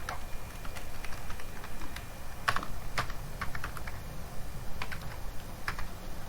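Python code is typed on a computer keyboard in irregular bursts of close, crisp key clicks, with brief pauses between runs of keystrokes and no speech over them.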